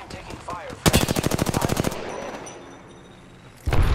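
Rapid automatic gunfire in Apex Legends, a loud burst of evenly spaced shots lasting about a second, then quieter game ambience before another loud burst of fire starts.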